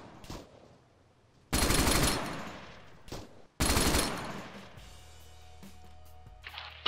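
Heavy .50 caliber machine gun fire from an enemy bunker in the Arma 3 video game, two loud sustained bursts of roughly a second each with brief gaps between them, then fading.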